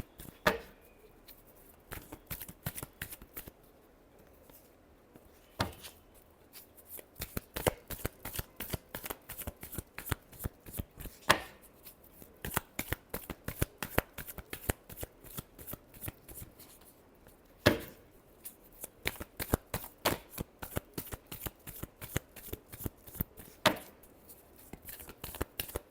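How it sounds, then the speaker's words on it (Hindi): Hand shuffling of a tarot deck: rapid, evenly spaced papery flicks in bursts with occasional sharper slaps, close-up and with no voices. "last shuffle"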